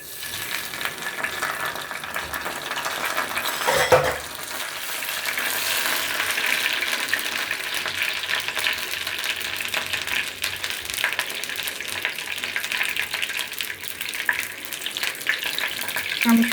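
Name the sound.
bay leaf and cumin tempering sizzling in mustard oil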